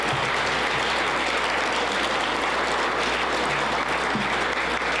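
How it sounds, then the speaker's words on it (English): Dense, continuous audience applause at a home design awards event, loud and steady for the full five seconds with no letup. "Let's give them all a round of applause."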